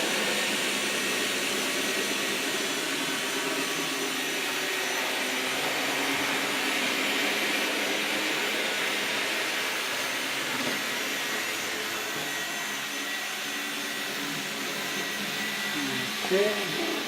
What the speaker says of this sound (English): that's why we're hearing some dead spots occasionally from the vacuum car